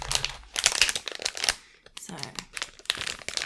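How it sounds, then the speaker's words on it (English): Plastic package of red beans crinkling and rustling as it is handled and opened at a kitchen table, with close, bursty crackles in irregular clusters and a soft voice speaking briefly. "first of all, I'm going to open up my red beans"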